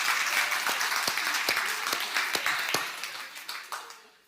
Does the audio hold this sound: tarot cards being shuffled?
no